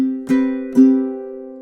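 A close ukulele rings out a sustained chord, with two strums about half a second apart sounding over it, playing measure 26 of a song alone.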